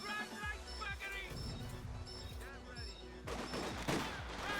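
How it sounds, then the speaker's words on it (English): Mortar and gunfire in the video game Company of Heroes 2, with repeated sharp explosive booms and bursts of shooting under someone talking throughout. "Shooting here with mortar."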